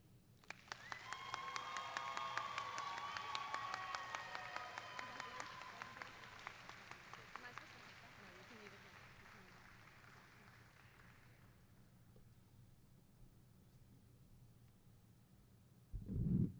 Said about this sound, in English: Can we give our student speakers another round of applause, please?